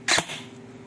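An airsoft DMR rifle set to single fire fires one shot at a chronograph: a single sharp, short pop close by, followed by quiet background hum.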